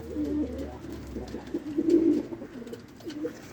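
Pigeons coo in repeated low throaty phrases, fairly close, with faint background rustle and no voices.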